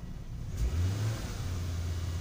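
Volvo car engine, checked during ETM diagnostics, rising from idle into a brief rev and then settling to a steady low drone, close and moderately loud, no voices.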